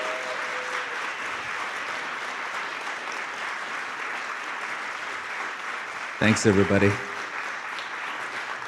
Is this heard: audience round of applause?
yes